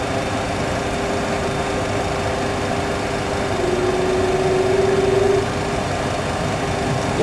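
Boeing 737 engines at takeoff thrust: a steady droning roar with a faint tonal whine that rises slightly midway, continuous and even, with no voices.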